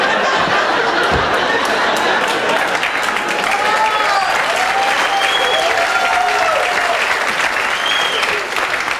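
Loud, sustained applause from an audience at a stand-up comedy show in Port Jefferson, with scattered chuckles and crowd murmur mixed into the continuous clapping throughout.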